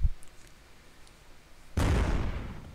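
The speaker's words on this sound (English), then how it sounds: "Artie's just gone for a blind shot" A blind artillery shell fired in World of Tanks lands as one sudden heavy boom after a quiet stretch of low rumble, then rolls on with a loud, noisy tail.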